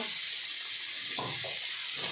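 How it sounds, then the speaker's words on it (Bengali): Onions fry in a pan for anda bhurji, giving a steady bright sizzling hiss with a brief stir partway through. "আবার আমি পেঁয়াজটাকে ভালো করে ভেজে নেব যেমন করে ভাজছি দেখতেই পাচ্ছ তোমরা"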